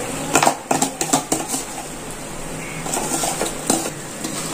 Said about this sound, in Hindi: अब हम डालेंगे इसमें अपनी तैयार हुई हुई भाजी, इसे हम पूरा का पूरा इसमें मिक्स कर दें